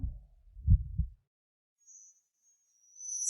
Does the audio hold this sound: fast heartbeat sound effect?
yes